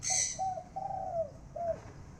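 A dove coos several times in a soft, steady series of drawn-out calls, fairly close and alone against a quiet background.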